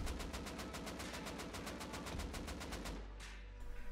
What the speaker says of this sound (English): So this is the old AK.